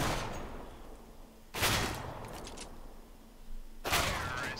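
Gunfire in Counter-Strike on the Dust 2 map, two sharp loud bursts of rifle shots about two seconds apart, each with a quick rattling tail, over a quiet ambient game background.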